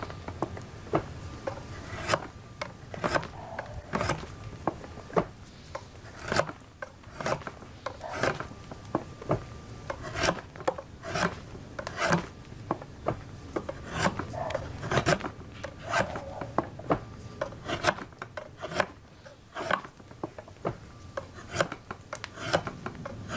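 A wooden tenon pin being tapered at one end by hand, heard as close, rhythmic rasping strokes about one every second, each a sharp scrape with quieter rubbing between.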